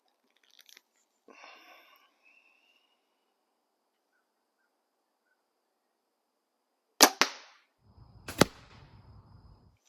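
Arrows loosed from an archery bow fitted with a new string: two sharp, loud release snaps with brief twangy decay, a few seconds apart after quiet, with faint rustling and handling noise earlier.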